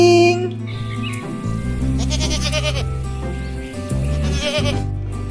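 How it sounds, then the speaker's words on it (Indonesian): A goat bleats in a wavering, nasal cry heard near and loud, set within a busy musical background of sustained tones for several seconds. "kambing."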